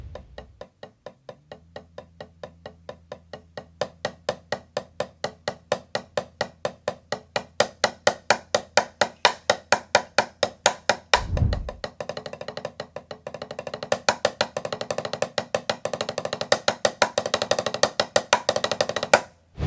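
Drumsticks striking a practice pad in a fast, even stream of strokes that builds from quiet to louder, with a brief low thump midway and the volume steadily climbing to the end.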